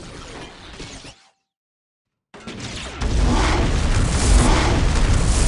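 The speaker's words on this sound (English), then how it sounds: "Incoming enemy fire." Heavy explosions from incoming enemy fire in the Warhammer strategy game Dawn of War, a loud boom that cuts to silence, then a dense, roaring blast rumble that builds and sustains.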